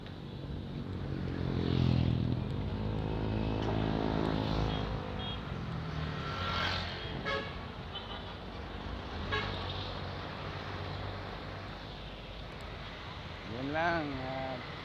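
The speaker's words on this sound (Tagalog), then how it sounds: "Ang dami pang mga sasakyan." Busy night street traffic rolls past at close range in a steady wash of engine noise, with several short horn toots and voices talking over it.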